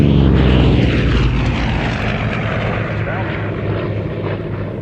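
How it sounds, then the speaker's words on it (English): A Vought Corsair warbird flies past at an airshow, its big radial piston engine roaring loud and rough, then slowly fading as it moves away. "Turn the speakers up, enjoy the sound of a fabulous Corsair and then the Bearcat."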